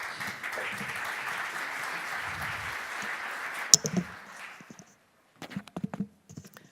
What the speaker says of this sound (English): So a warm applause for Krista